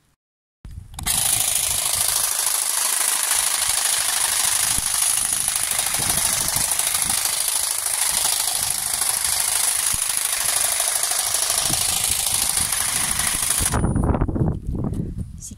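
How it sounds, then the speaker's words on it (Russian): A powered trimmer cuts a boxwood shrub in a garden, starting abruptly after a brief silence and buzzing at a loud, constant pitch for about thirteen seconds before cutting off, with no talking. "Сейчас я режу вот таким триммером,"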